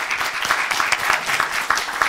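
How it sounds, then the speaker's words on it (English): A round of applause at a school board meeting, with many hands clapping steadily and moderately close throughout, with no talk over it. "if we could please give all these young people a round of applause"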